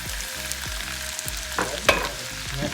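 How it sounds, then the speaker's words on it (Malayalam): Mustard seeds, shallots and curry leaves fry in hot oil, giving a steady sizzle with a few sharp crackles and pops toward the end. No one speaks over it. "അപ്പോൾ നമുക്ക് കടുക് മൂപ്പിക്കാൻ ഇച്ചിരി കടുക് കൂടി ഇടാം ആദ്യം."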